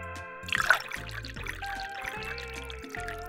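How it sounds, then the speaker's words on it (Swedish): Yellow cheese juice is poured into a glass, a short trickling splash near the start, then quieter liquid sounds under cheerful background music. "Vi häller upp den i ett glas."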